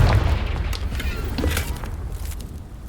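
A Confringo blasting spell explodes in Hogwarts Legacy, producing a deep, rumbling boom that rolls on steadily for a few seconds with scattered crackles above it.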